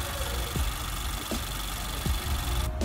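A 2017 Honda Accord's 2.4-liter i-VTEC four-cylinder idles steadily nearby, a low continuous hum with faint higher whine, a few brief low thumps, and no talking.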